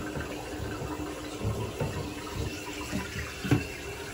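Water runs steadily into a toilet tank after a flush valve replacement, a continuous low rushing fill with faint gurgles, fairly close and heard alone.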